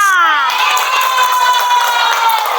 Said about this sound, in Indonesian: ya, tepuk tangan untuk semua.